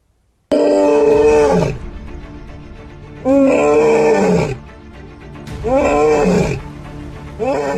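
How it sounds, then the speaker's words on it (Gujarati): A lion roars at night near farm fields in Botad district, Gujarat: three long, loud, close roars, each swelling and then trailing into deep grunts, separated by short pauses. "સિંહની આ ડણક ન માત્ર સ્થાનિકોને પરંતુ રાત્રે ખેતી કામ માટે જતા ખેડૂતોને ડરાવી રહી છે।"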